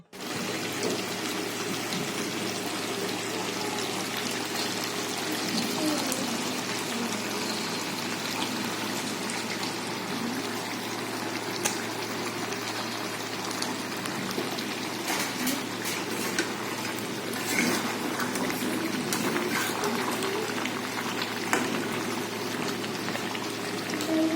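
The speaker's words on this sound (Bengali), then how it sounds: "এখন অঝরে বৃষ্টি হচ্ছে বাইরে ঝমঝমিয়ে বৃষ্টি হচ্ছে" Heavy rain pours outside in a continuous, moderately loud wash with scattered drip and splash accents and no voices.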